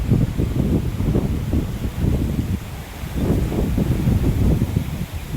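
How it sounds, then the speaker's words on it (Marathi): Strong gusts of wind buffet the microphone in a continuous low roar, swelling and easing in waves. "वारा भरपूर सुटलाय कपडे इकडून तिकडे जातात बघा"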